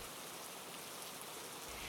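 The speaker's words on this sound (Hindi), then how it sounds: "एक दिन अचानक जोर की बारिश शुरू हो गई" Heavy rain pours steadily, a dense, even hiss of drops striking surfaces with no pauses or other sounds.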